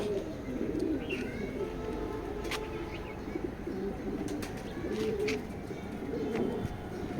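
Male short-balance tail pigeon coos in low rolling bursts, close and quiet, mixed with a few sharp clicks and brief wing flutters.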